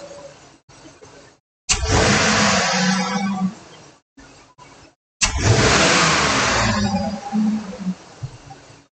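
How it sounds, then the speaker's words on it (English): Car engine revved in two sharp throttle snaps during an engine diagnostic check, each a loud rising roar that holds briefly then falls back, separated by quieter idle gaps. "So I'm going to snap the throttle 2 or 3 times."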